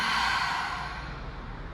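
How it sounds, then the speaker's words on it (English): A person exhales through an open mouth during a hatha yoga class, one long breathy sigh that starts full and slowly fades over under two seconds, close and alone. "Open mouth, exhale."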